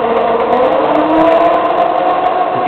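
Motor of a Razor E300 electric scooter upgraded to 36 volts runs steadily nearby, a constant mid-pitched electric whir with a faint hum that holds level throughout, no talking.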